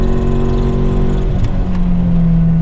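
A front-wheel-drive Infiniti's engine roars loud and close at high revs, holding a strained, constant drone whose pitch shifts partway through.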